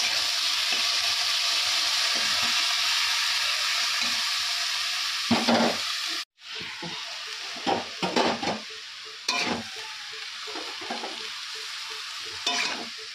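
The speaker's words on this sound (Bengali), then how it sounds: "চিংড়ি মাছটা ভাজা ভাজা হবে" Prawns fry in a pan with a strong, continuous sizzle, broken by the scrape and clatter of a spatula stirring against the metal and a brief cut partway through, all close and without talk.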